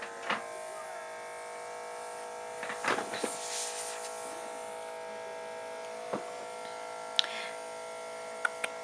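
A Luminess airbrush makeup machine runs after being switched on, giving off a steady, close electric buzz with a thin whine that holds throughout. A few small clicks and handling taps break in now and then, and no one speaks.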